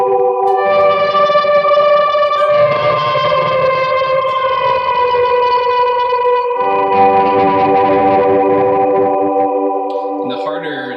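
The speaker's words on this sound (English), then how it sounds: "I like to call it a dirty swell" Distorted electric guitar swells through a worship pedalboard, a dirty, overtone-rich swell blooming in sustained, chorus- and echo-washed chords that ring loud and close, changing once or twice before fading at the end.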